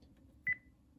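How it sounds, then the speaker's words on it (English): One short dialing beep sounds as 9 is pressed on a Panasonic phone hooked to a mini PBX: a single clean tone about a tenth of a second long, over a quiet room hum. "now I'm going to pick up this one and dial 9"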